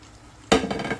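Steak pieces drop into a pan of thick pepper steak sauce with a sudden wet slap, followed by sizzling and the scrape of stirring, close and fairly loud.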